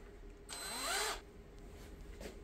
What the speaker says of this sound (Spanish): primero tengo que agrandar o hacer un hoyo dentro del perno que está roto